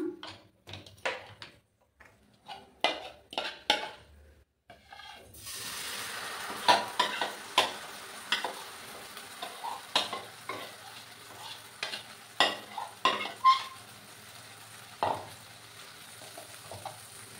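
Food sizzles in an oil-brushed kadai as a utensil scrapes and taps the pan in irregular strokes, with a steady frying hiss that sets in partway through and continues under the clatter.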